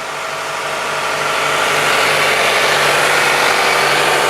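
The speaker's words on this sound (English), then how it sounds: "The engine sounds really good." A 20-year-old car engine idling steadily after its motor mounts were replaced, a smooth continuous hum with faint even pulsing, close and fairly loud, with no knocking or ticking and no voices.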